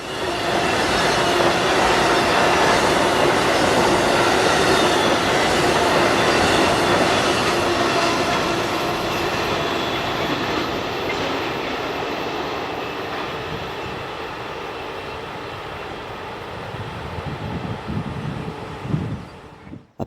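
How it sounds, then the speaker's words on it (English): A simulated train rushes past at speed beside the track in a railroad simulator game, a loud, continuous rumble and clatter of wheels that slowly fades over about twenty seconds, ending with a few sharp knocks. "It was cool seeing my train set at speed from the wayside"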